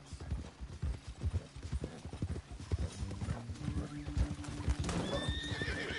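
Horse hooves clip-clop in steady rhythm in Red Dead Redemption II, a continuous walking gait up close, joined near the end by a short whinny over faint ambient sound.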